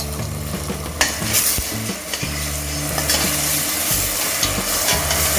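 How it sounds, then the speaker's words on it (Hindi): Steady close sizzle of mint and coriander paste frying with onions for soya pulao, with occasional scrapes and clinks of a spoon stirring in the pan throughout. "इसका कच्चा स्मेल जाने तक हम इसे फ्राई करेंगे"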